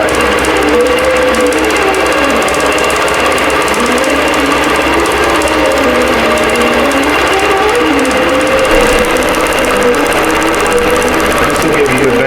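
Embroidery machine stitching an applique design, a steady, loud, rapid mechanical chatter of the needle running continuously without pause, close up.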